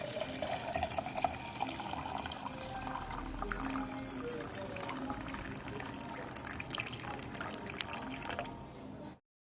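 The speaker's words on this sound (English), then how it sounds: "I'll sieve the tea into my jug and serve." Soursop leaf tea pours through a sieve into a jug in a continuous close liquid stream, steady throughout before stopping abruptly at the end.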